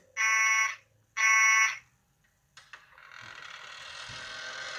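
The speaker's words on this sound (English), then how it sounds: "Alarm." In the video game Five Nights at Wario's, the 6 a.m. alarm sounds as two loud electronic buzzer blasts. A couple of mechanical clicks follow, then a rising hiss and faint cheering-like noise.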